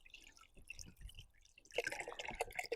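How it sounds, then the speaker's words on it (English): A small solar-powered garden fountain and pond pump bubbles and splashes in an uneven, gurgling stream, close and fairly soft at first, then growing louder and busier. "Like a bubbling fountain, that's wonderful."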